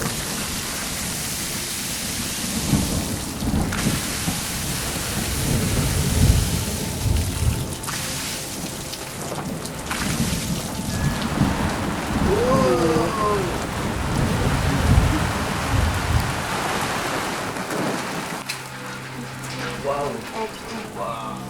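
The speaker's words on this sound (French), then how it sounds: "Voilà, ça va être la tempête." Rain pours steadily over a broadband hiss with low rumbling swells like thunder, a storm sound continuing throughout, with brief faint tonal chirps partway through and a drop near the end.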